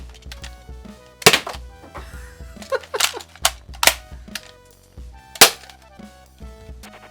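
An Adventure Force Dart Zone Deuce toy revolver fires foam darts with several sharp plastic snaps and thunks, close and fairly loud, among clicks of handling and reloading.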